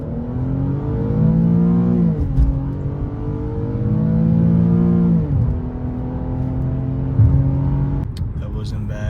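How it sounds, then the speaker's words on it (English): An Infiniti G25x accelerates hard from a standstill in drive sport mode, its engine note climbing steadily through upshifts with brief dips between gears, loud and continuous from inside the cabin, with a voice talking over it. "0 to 60 in drive sport right now."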